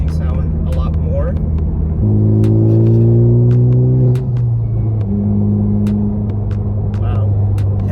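A Honda Civic Type R with a Phearable Stage 2 tune accelerates, its turbocharged engine droning loudly with rising harmonic tones that shift midway as it pulls, over a steady low road rumble.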